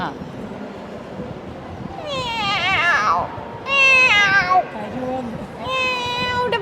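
A person imitates a cat with three drawn-out, wavering meows over a steady background murmur.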